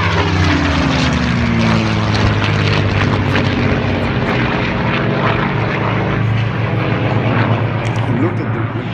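A Spanish-built version of the WWII Messerschmitt Bf 109 propeller fighter flies overhead at an airshow, its piston engine droning loud and steady with shifting pitch as it passes, while a commentator talks over it.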